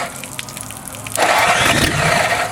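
A starter motor cranks briefly on a flathead engine, then the engine catches and roars up loudly, running steadily and close by.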